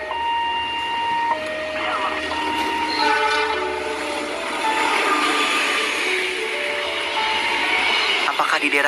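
A train passes close by at a railway crossing in Indonesia, its long sustained horn sounding in several drawn-out blasts over the rolling rumble and clatter of the carriages.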